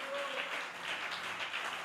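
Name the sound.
church congregation applause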